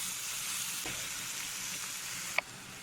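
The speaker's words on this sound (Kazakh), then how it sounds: "Енді осы қуырылып жатқан заправкамызға біз бұрыш, қара бұрыш қосамыз." A tomato and vegetable dressing fries in a pan with a steady, soft sizzle and crackle throughout, plus a single sharp clink of a utensil near the end.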